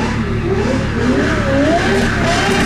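A sports car engine with a straight-through exhaust revs loudly and steadily, its raspy exhaust note rising and falling close by.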